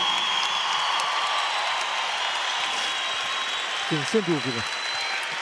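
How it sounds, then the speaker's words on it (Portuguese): Crowd applause for a fighter after a combat bout, a steady roar of clapping and crowd noise throughout, with a short spoken reply breaking in near the end. "Uma grande salva de palmas para o Numeiro"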